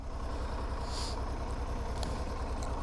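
A motorcycle engine idles steadily and low, even and droning, with no voices over it.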